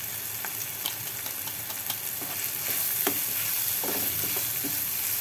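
Vegetables with red chilli, coriander powder and Maggi masala sizzle steadily in a pan while a spoon stirs them, scraping in irregular strokes over a constant loud fry.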